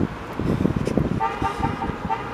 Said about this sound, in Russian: И вот машина сигналит,